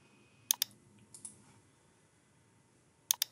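Computer keyboard keys are tapped in a few quick, quiet clusters of sharp clicks with pauses between, close up in an otherwise quiet room.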